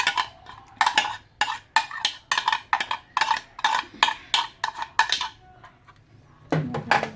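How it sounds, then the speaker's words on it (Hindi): A spoon clinks and scrapes against a metal bowl while tikka biryani marinade is mixed by hand. The strokes come in quick, irregular bursts, pause briefly, then resume, close and clear with no talking. "इसको अच्छी तरह मिक्स कर लें।"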